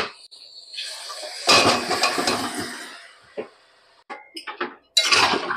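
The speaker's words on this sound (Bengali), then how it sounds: "এবার আমি আমগুলো কড়াইতে ঢেলে দিচ্ছি।" Mango pieces tipped from a container into a wok of melted sugar for pickle, a burst of clattering tumble and sizzle, then scattered clinks and a final rush of pieces, close and fairly loud.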